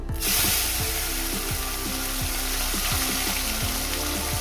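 Mourala fish fry in hot oil, a loud dense sizzle and bubbling that fills the whole stretch, with a rhythmic series of short scraping strokes running beneath it.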